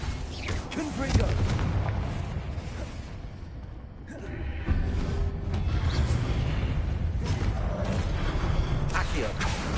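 Confringo blasting spell explosions in Hogwarts Legacy: loud booming blasts and whooshes over a dense game soundscape, with a voice shouting spell names.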